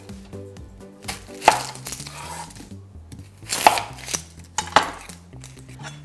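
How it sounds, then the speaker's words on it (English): A knife chops a yellow onion on a cutting board in a kitchen: several sharp, close knocks in an uneven rhythm over quiet background music. "I have an onion here that I'm going to cut up."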